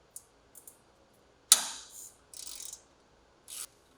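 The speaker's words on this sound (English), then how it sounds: "remove and retain the fastener and washer retaining the stabilizer bar link to the upper control arm" Fastener being removed with a hand ratchet from the stabilizer bar link on the rear upper control arm of a Polaris RZR Trail: a few isolated clicks, then a louder metallic rattle and a short ratcheting burst, close and otherwise quiet.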